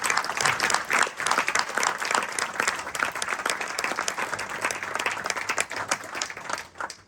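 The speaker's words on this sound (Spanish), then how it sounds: "vaya este aplauso para Roberto Ercilla" A seated audience at a book presentation applauds in memory of Roberto Ercilla, giving a full round of clapping that stays steady and fades slightly toward the end.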